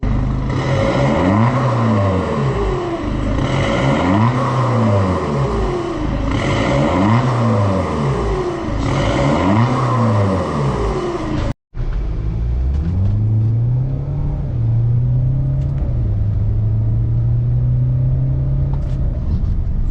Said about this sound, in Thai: เดี๋ยวลองฟังเสียงดีกว่าว่าโหดและดุดันแค่ไหนนะครับ